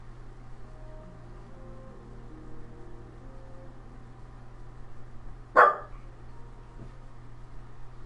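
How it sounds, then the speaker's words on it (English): A single sharp dog bark rings out in the Ni No Kuni 2 video game, one brief, fairly close bark over a low steady hum of background ambience, otherwise quiet. "Bark, bark, bark?"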